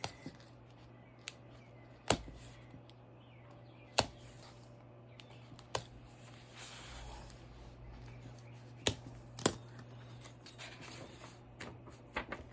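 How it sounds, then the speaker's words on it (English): Scissors snip through the binding thread of a book signature in a handmade ephemera journal, giving about six crisp, isolated clicks spread unevenly over a quiet background. "you're just gonna cut the thread"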